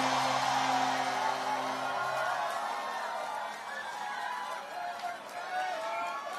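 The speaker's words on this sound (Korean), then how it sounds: "큰 함성과 박수 다시 한번 부탁드리겠습니다" Crowd at an outdoor Korean presidential campaign rally in Suncheon, a broad sustained roar of cheering with scattered whoops, preceded briefly by a held amplified tone or voice.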